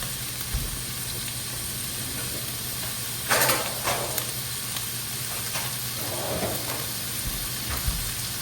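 Onions sizzle with salt in a frying pan, a steady hiss with a few soft stirring scrapes and clicks over a constant low background hum.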